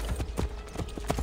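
Steady clip-clop of horse hooves trotting at a quick, even rhythm in the video game Assassin's Creed Brotherhood, close and clear.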